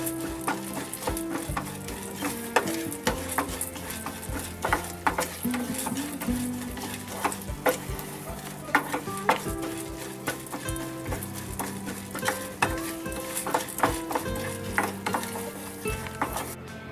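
Toor dal roasts in ghee with spices until golden, a steady sizzle broken by repeated scraping stirs and clatter of a spoon against the pan, with soft music underneath.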